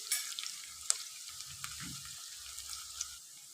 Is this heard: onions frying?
yes